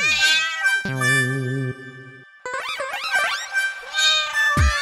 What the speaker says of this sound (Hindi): बिल्ली आ गई अंदर।